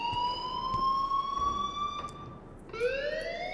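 School fire alarm in the video game Life Is Strange, a loud electronic siren of steady, slowly sliding tones that cuts off briefly and then restarts.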